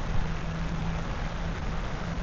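Steady soaking rain falls straight down with no wind over Track 30 park in BGC, making a dense, even hiss of drops on surfaces that is close and continuous throughout.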